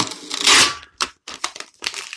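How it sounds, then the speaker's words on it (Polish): Plastic protective foil is peeled off a scrap microwave oven door panel, a loud crinkling rip followed by several shorter crackling tugs close by. "Ściągamy folię."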